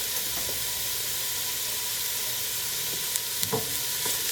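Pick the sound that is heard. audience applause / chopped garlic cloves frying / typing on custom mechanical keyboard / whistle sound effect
chopped garlic cloves frying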